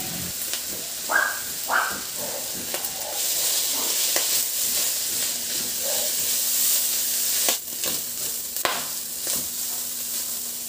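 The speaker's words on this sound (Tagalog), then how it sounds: "ilagay ko na rin yung bawang at igisa. Isunod ko na rin ilagay yung sibuyas." Garlic and onion sautéing in oil in a wok, with a constant hissing sizzle and occasional clinks and scrapes from stirring, with no talking.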